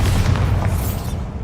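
A Bombarda blast spell cast in the video game Hogwarts Legacy: one loud, deep boom with a heavy low rumble that lasts the whole moment and slowly thins out.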